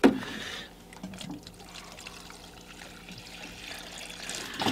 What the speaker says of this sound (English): So our last step of this kind of parking routine is to give water to Ziggy